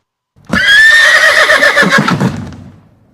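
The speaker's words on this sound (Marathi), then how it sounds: "घोड्याचे खिंकाळणे म्हणजे घोडा जेव्हा ओरडतो" A horse gives one loud, shrill neigh that whinnies and wavers before fading out, heard up close with nothing else around it.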